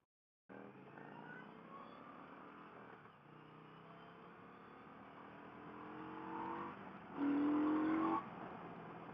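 Victory Octane motorcycle accelerating hard through third gear, a continuous engine roar with rising pitch that climbs steadily and peaks loudly near the end, heard close with wind noise.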